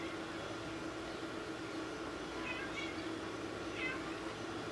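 A pet cat gives two short, faint meows a second apart, set against a steady low hum in a quiet room.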